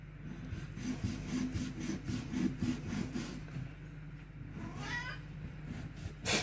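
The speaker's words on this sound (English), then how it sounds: "That's my cat." A house cat meows faintly in a kitchen, with repeated soft rhythmic scraping and cutting noises from food preparation running underneath.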